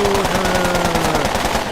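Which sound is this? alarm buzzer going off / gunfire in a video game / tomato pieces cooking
gunfire in a video game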